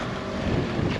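Gusty wind buffets the microphone in a continuous rough rumble, loud and close, with no voices, outdoors at Acle Bridge on the Norfolk Broads in October.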